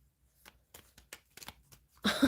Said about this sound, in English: Someone complained that I shuffled the cards too slow.